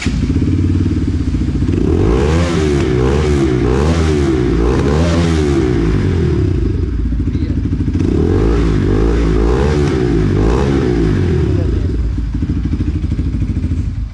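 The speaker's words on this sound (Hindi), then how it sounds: "सो लास्ट वन, सबसे बड़ा वाला एग्जॉस्ट। अब इसकी साउंड कैसी आ रही है?" A Bajaj NS200 motorcycle fitted with the largest aftermarket exhaust revs hard and close up, its loud throaty blasts rising and falling in repeated bursts with crackling pops, and no voices.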